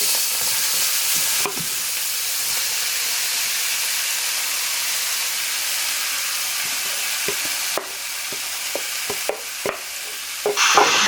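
A vegan mixture sizzling in a hot pan, a loud steady hiss of frying close by, broken by a few sharp clicks and scrapes of stirring toward the end, with no one speaking.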